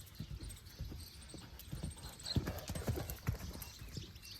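A horse named as running, its hooves clip-clopping in a faint, irregular patter of soft thuds against quiet outdoor background noise, with no speech.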